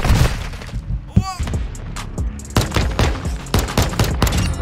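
Rapid bursts of AR gunfire in a video game, loud and close, with sharp repeated shots, a brief shattering ring, and a voice talking over the firing.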